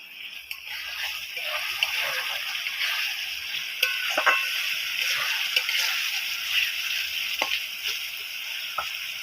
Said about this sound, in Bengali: ধনিয়া চিকেন করার জন্য মশলাটাকে আমি ভালোভাবে হালকাভাবে ভাজবো